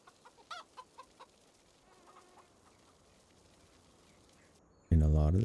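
Chickens wander through medium grass in a video game, giving soft, short clucks spaced apart early on, then a faint stretch before a loud voice cuts in.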